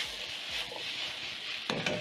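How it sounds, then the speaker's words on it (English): Sautéed potatoes and mini smokies tossed in a pan, giving a steady close sizzle with a few scraping stirs and a louder clatter of the pan near the end. "Toss the potatoes."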